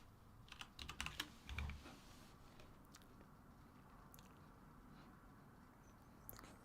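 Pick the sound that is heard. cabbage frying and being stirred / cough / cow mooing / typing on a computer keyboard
typing on a computer keyboard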